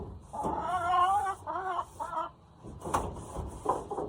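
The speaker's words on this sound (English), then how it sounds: "we love our birds and it's important for their health and safety" Backyard chickens cluck and squawk in a short series of close, rising calls, pausing briefly before a few more clucks, with no talking over them.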